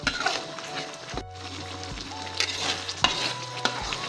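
Tuna frying in a wok in an Aceh-style spicy sour red spice sauce, a close, steady sizzle broken by several scraping, clinking stirs.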